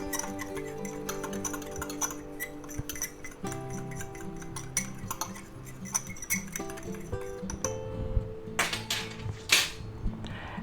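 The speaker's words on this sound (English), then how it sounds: "let's just go ahead and mix up our seasonings" Seasonings for pork chops are stirred in a small bowl, giving quick, rhythmic clinks and ticks of a utensil against the dish, close and fairly quiet, with no talking.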